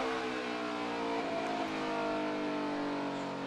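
Monster Energy NASCAR Cup Series stock cars racing at the Toyota Owners 400, a steady high engine roar of cars at speed, rising and shifting as they pass, with no talk over it.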